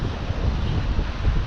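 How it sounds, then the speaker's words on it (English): Breezy wind blows across a beach at Bear Gully, roaring and buffeting the microphone in a loud, steady rush with low gusty rumble throughout. "today's a little bit breezy down here on the beach"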